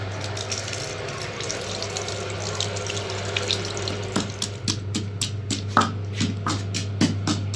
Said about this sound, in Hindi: मैं हाथ धो लूँ